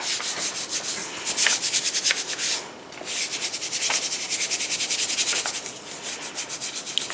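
Stencil paper is rubbed down onto a ceramic tile with fast, steady scratchy strokes. The rubbing pauses briefly once, then resumes in a quick back-and-forth rhythm, close and clear.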